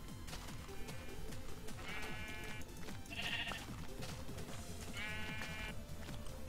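Sheep bleat in the Minecraft video game, several short game bleats standing out over busy, continuous background music and game noise.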